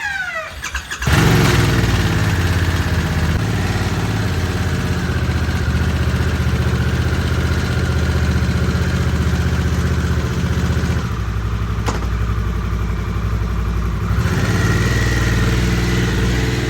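A Harley-Davidson Sportster S motorcycle cranks and fires up after a brief quiet moment, then settles into a loud, close, steady idle for the rest of the time, with no talking.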